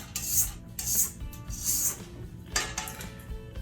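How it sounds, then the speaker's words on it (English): Butter and sugar being scraped down in a mixing bowl for pecan sandies, the spatula rasping repeatedly against the bowl with gritty crunching of undissolved sugar crystals, close and rhythmic. "as you scrape it down, you can hear little crystals of sugar"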